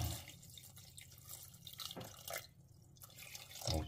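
Tap water runs into a pot for chestnut cream, a steady close splashing and trickling stream that lasts throughout, with no voices.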